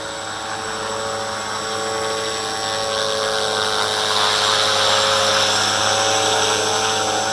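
A V450D01 RC helicopter hovers during its maiden flight, giving a continuous loud high-pitched rotor and motor whine with a steady buzzing drone that swells slightly in intensity.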